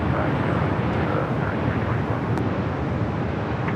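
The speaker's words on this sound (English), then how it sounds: "It's 787-9 Dreamliner," A brand-new Boeing 787-9 Dreamliner lands at LAX, and its jet roar fills the short stretch as a dense, steady rumble with a windy edge. It stays loud and even from start to finish.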